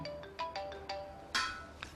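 Mobile phone ringtone chiming in a quick melodic pattern, about six short bright bursts, fairly faint and heard alone.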